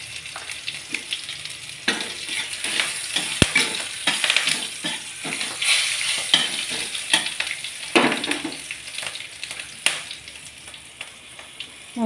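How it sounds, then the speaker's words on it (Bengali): Whole cumin seeds sizzle and crackle in hot oil in a pan, a steady close frying hiss with scattered pops and a few stirring scrapes, no voices. "একটু গোটা জিরা দিয়ে দিলাম।"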